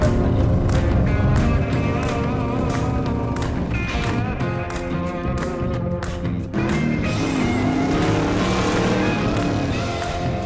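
Hot rod car driving hard around an autocross course at a classic car and truck event, a loud continuous engine roar with shifting revs and faint tire noise throughout.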